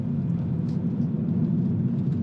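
A Subaru Forester STI boxer engine with unequal-length headers idles nearby, giving a steady, low, rumbling burble with no voices over it.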